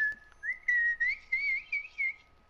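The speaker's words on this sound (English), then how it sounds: "Stop whistling, you're gonna make her cry even more." A person whistles a wavering, sliding tune of several short phrases, close and clear over a faint low hum.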